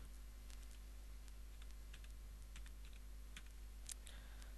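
Computer keyboard keys clatter in quick, uneven bursts of typing over a steady electrical hum, near and fairly faint, with no voices.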